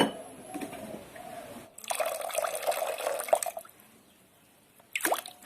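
Water poured onto uncooked rice in a pot in a hostel kitchen, a close gurgling fill of about two seconds, then a short second splash near the end.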